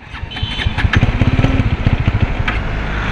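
Motorcycle that has just come back from a showroom service, cranked and failing to start: a loud, close, rapid chugging sputter that keeps turning over without catching, alone with no talk.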